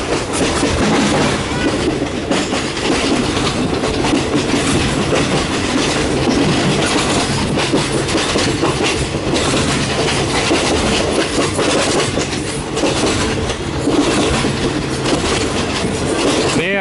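Steady rumble of a third-class passenger train rolling along the rails near Hat Yai, Thailand, with continuous clattering wheels and a broad, loud noise throughout.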